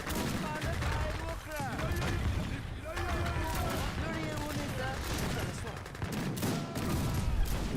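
Gatling camels fire in the strategy game Age of Empires 3: Wars of Liberty, a dense rattling barrage of rapid gunfire mixed with battle noise and clashing effects throughout, loud and sustained, while someone talks over it.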